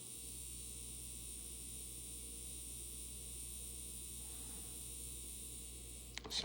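A Tyco old-time 4-6-0 model locomotive motor runs freshly oiled, giving a steady electric hum and buzz that holds even throughout, ending with a brief clatter.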